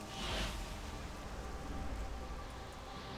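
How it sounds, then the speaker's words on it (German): Steady rain falls in the video game World of Warcraft, a continuous soft hiss of raindrops spread evenly across the scene with no voices over it. "weil der Regen, den hört man hier auch richtig"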